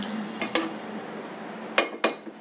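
A metal pressure cooker lid being closed while cooking chicken hariyali curry, two pairs of sharp metallic clanks and clinks, close and crisp, separated by a quiet pause, with no talking over them.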